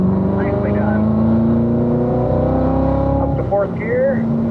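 A car accelerating up the straightaway on a race track during driving school laps, its engine revving steadily and climbing in pitch as it shifts into fourth gear, with an instructor's voice over the engine.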